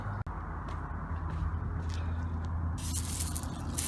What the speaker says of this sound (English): I'm gonna spray it with WD-40 BB Blaster and let it soak for a while.